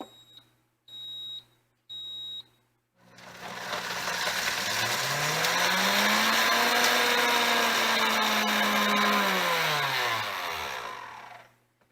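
A kitchen blender grinding almonds on its grind setting: three short electronic beeps, then the motor spins up into a loud, steady, high whirring grind that rises and falls before stopping.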